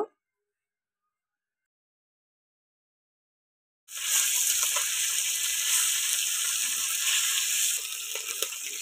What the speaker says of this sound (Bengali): এই মাছ ইলিশ মাছটা একটু হালকা করে ভাজতে হবে